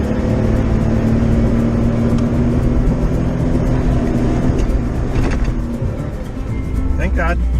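A Jeep engine drones steadily as it climbs a sandy road through coastal dunes on a northern California beach, loud and close throughout, with no talk heard.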